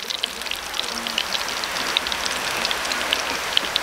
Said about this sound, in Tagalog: Ito na naman yung ulan.